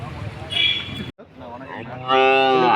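Cattle at a native cattle market in Palayakottai bellow in loud, close moos, one long call cut off by a short pause, then another swelling moo, with faint market background.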